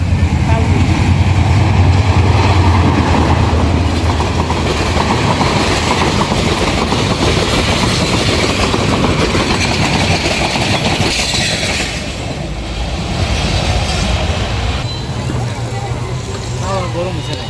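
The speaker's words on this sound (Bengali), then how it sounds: "এটা হচ্ছে রেলগাড়ি" A train rolls past at a market in Raipura, Narsingdi, a loud, steady rumble and clatter lasting the whole stretch, easing slightly toward the end, with crowd voices mixed beneath.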